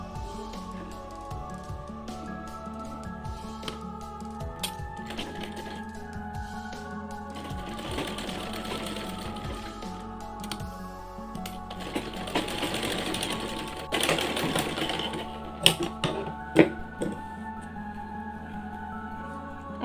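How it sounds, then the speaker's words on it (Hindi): Sewing machine stitching fabric for a Diwali light-up outfit for a Laddu Gopal deity idol, a continuous rapid mechanical whirr running in bursts with short pauses, close and steady throughout. "कट करने के बाद इसको यहाँ इस तरह से रख के सिलाई लगा लेंगे यहाँ तक।"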